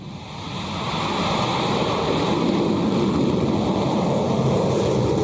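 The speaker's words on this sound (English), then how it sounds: "We got a liftoff." A Rocket Lab Electron rocket lifts off the launch pad with a dense, continuous broadband roar that swells over the first second and then holds steady and loud, with no voices.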